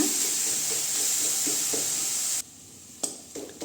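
Chopped tomatoes sauté in a pan for Tamil-style tomato rice, giving a steady loud sizzle and hiss that cuts off abruptly, followed by a few sharp clicks and faint stirring sounds.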